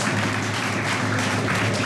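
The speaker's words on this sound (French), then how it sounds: "on peut les applaudir s'il vous plaît" Applause for students being called up at a 2019 prize-giving at Lycée Joseph Gaillard, a steady, dense wash of clapping from a hall audience with a low hum beneath.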